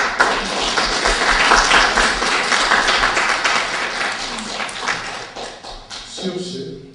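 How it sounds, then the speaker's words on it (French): An audience at a community debate in Washington, DC applauds the organizers and the two candidates with dense, steady clapping that thins toward the end, while a voice carries over it. "je voudrais vous demander d'applaudir l'équipe qui a organisé ce débat et d'applaudir les deux candidats"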